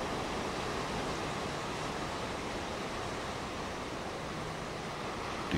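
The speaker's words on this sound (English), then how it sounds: "spectacular waves break against the sandstone cliffs" Ocean waves break against sandstone cliffs at Shore Acres near the mouth of Coos Bay on the Oregon coast, a steady roaring wash of surf that stays broad and loud throughout.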